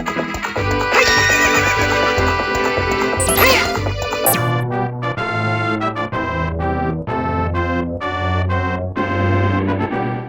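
A horse, Epona, in the video game Zelda: Ocarina of Time, whinnies and trots with hoofbeats over steady in-game music, loud and continuous throughout.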